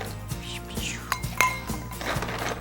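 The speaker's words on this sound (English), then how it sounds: "These are real ice cubes." Real ice cubes clink and rattle into a glass for a gin and tonic, giving several light, close clinks and taps over a hum of room noise.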